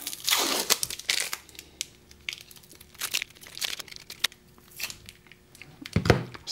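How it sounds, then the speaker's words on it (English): Tape pulled off a 3D-printed plaster slip-cast handle mold gives bursts of crinkly ripping and peeling, irregular and close, separated by short quiet gaps. "Let's go ahead and remove the tape and do the first part of the demolding."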